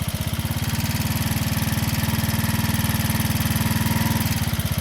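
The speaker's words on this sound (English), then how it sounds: "Got the bike idling extremely well." A Janus Halcyon 250 motorcycle fitted with a 28mm Nibbi carburetor idles steadily up close, a smooth rapid single-cylinder putter with an even, unbroken rhythm and no voices.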